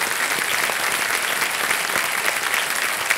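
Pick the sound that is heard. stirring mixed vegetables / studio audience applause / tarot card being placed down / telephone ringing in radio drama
studio audience applause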